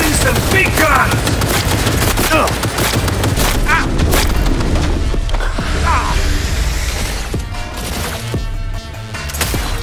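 Gunfire in the video game Cyberpunk 2077, loud and dense rapid shots with booms and impacts cracking close by, nearly continuous, mixed with shouting voices.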